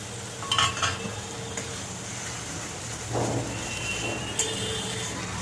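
Chopped tomato goes into a frying pan of onion, ginger and garlic paste for a fish curry, giving a low sizzle under repeated scraping and clinking of a spatula against metal, close and moderate.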